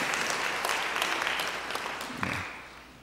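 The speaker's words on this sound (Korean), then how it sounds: "여러분들 환영의 박수 부탁드립니다." A church congregation claps in welcome for visiting pastors, a steady wash of applause that thins out and fades near the end.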